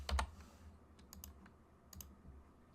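A few light keystrokes click on a computer keyboard, spaced in quick short bursts against a quiet background.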